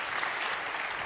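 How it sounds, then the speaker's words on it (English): Conference attendees at an investment event applaud the panelists, a brief, even wall of many hands clapping at moderate volume. "A round of applause for the panelists,"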